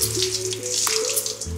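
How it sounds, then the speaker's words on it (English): Warm water with dish soap washing engine parts from a Ford F250 engine rebuild, a continuous splashing, trickling wash over a steady low hum. "we're using Dawn dish soap and warm water just so that there's no bad chemicals"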